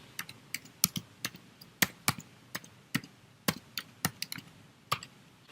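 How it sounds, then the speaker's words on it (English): Typing on a computer keyboard, quick irregular clicks and taps close by, soft and steady with brief pauses, no talking. "or you can type it in manually."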